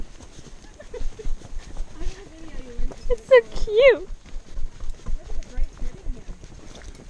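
A horse walking, a rhythmic series of soft hoof clip-clops up close, under a girl's speech and a brief high excited voice.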